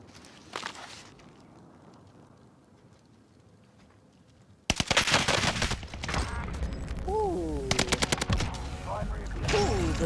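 Silence breaks into loud, rapid gunfire in Warzone, likely from a Whitley rifle, with sharp bursts and quick footsteps filling the second half of the clip.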